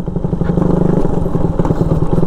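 A Raider motorcycle engine rumbles close and loud in a steady, fast-pulsing idle, with no voices.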